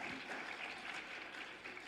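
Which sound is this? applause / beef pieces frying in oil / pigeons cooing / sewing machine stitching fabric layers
applause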